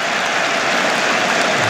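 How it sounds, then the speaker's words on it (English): Steady, loud cricket crowd cheering and applause at an England v India Test match, a continuous dense roar with no voices standing out. "And listen to the cheer for that."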